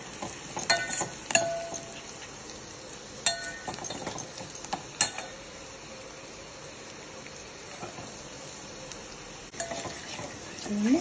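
Spices tempering in hot oil and ghee for a raw mango dal, a soft steady sizzle underneath with scattered clinks and stirring knocks of a utensil against the pan, no voices.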